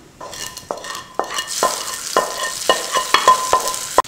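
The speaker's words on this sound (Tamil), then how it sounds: "பூண்டு இந்த கலர் வந்த உடனே இப்போ எடுத்து நம்ம கீரையில் இதை ஊற்றிடலாம்." Sizzling garlic tempering, fried golden, spooned from a small pan over cooked spinach: loud close crackling and frying hiss punctuated by repeated metallic taps and scrapes of a spoon, with no speech.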